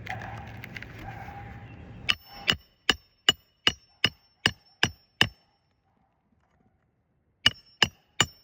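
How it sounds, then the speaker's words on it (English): Nails hammered during a repair job, sharp ringing metallic strikes in two bursts: seven evenly paced blows, a pause of silence, then three more. Soft rustling and handling noise come before the first hit. "Gotta be careful not to put it in the same nailing hole that it was in, or else it won't stay."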